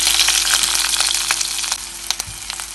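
Chopped onions sautéing in a pan after mustard seeds and curry leaves for an omelet curry, giving a steady close frying sizzle with a few brief clicks and stirring knocks.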